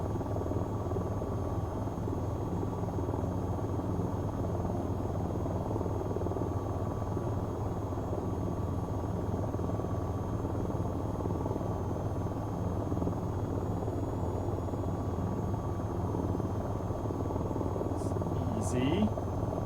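Steady, loud rotor drone of an AH-94 attack helicopter hovering toward a helipad in the flight game VTOL VR, continuous throughout with a constant engine whine, while someone talks quietly over it.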